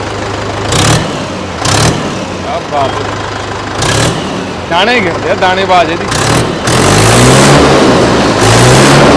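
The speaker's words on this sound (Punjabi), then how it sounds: "ਸਟਾਰਟਿੰਗ ਹੈ ਬਹੁਤ ਸੋਹਣੀ ਬਹੁਤ ਸੋਹਣੀ ਬਹੁਤ ਸੋਹਣੀ ਜੀ ਆਵਾਜ਼ ਬਹੁਤ ਸੋਹਣੀ ਹੈ ਆਵਾਜ਼ ਬੜੀ ਸੋਹਣੀ ਹੈ ਟਰੈਕਟਰ ਦੀ" A new four-speed Arjun tractor engine runs and revs in a steady mid-pitched rumble. It swells louder toward the end while people talk over it close by.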